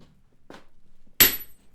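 Blacksmith's hammer striking hot steel while forging a round swage, one sharp ringing blow near the end after a soft, faint tap, with quiet gaps around it.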